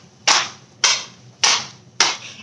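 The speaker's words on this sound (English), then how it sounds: "Now we gotta stomp our feet." Four loud, evenly spaced broadband thumps from feet stomping on the floor during a children's rhythm sing-along, each sharp hit decaying quickly, close and without talk.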